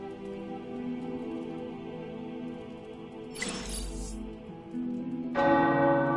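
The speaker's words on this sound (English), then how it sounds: "The tower bells are ringing." Tower church bells ring out in a video game, sustained tolling tones layered with a hiss of rising clatter midway and a louder fresh strike near the end.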